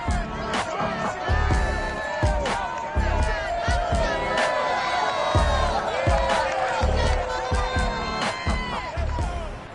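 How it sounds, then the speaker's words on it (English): Large stadium crowd cheering at TIAA Bank Field in Jacksonville as Jaguars and Chargers take the field in an EA Sports NFL video game, a dense, continuous roar with whoops and surges, under a commentator's voice. "This crowd excited to see their Jaguars as both teams emerged from their tunnels a moment ago"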